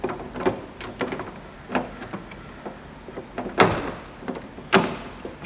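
An exterior door handle on a Toyota Camry is slid into place, giving a run of short plastic and metal clicks and knocks at uneven intervals, with two sharper taps near the end.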